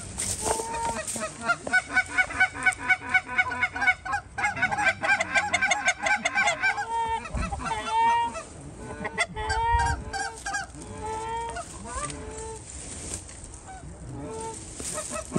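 Geese honk repeatedly during a goose hunt, some of them Norway geese. The calls start as a loud rhythmic chorus of honks, then turn into looser overlapping cackles from a flock that sounds fairly close.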